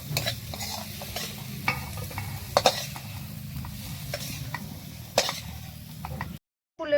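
Leafy greens stir-fried in a pan until dry, with repeated sharp spatula scrapes and taps over a soft, continuous sizzle, close up and moderately quiet before a brief silence near the end.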